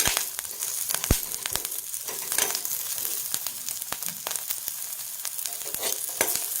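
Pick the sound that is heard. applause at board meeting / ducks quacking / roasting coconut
roasting coconut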